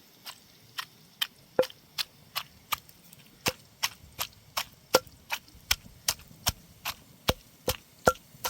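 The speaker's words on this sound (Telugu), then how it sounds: "ముందుగా వేయించి పెట్టుకున్న పచ్చిమిర్చిని చింతపండుని మెత్తగా దంచి పెడతాను" Fried green chillies and tamarind pounded in a stone mortar for village-style brinjal chutney: about twenty sharp, evenly spaced thuds in a steady rhythm, close and clear with no talk.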